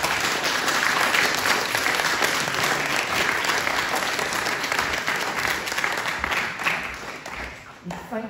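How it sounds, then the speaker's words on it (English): Lecture audience applauding at the close of a talk on Oscar Wilde's Oxford years, a dense, sustained wash of many hands clapping at steady loudness before fading slightly at the end. "I'm going to ask you to clap again because that wasn't anywhere near enthusiastic enough."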